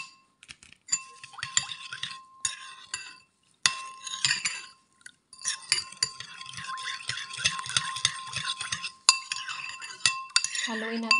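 A spoon clinks and scrapes against a bowl or glass while dry active yeast and sugar are stirred into warm water, a busy run of close metallic ticks and chimes with short pauses.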